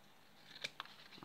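Scissors snip twice to trim the ends, giving two short, quiet crisp cuts close by, followed by a faint rustle.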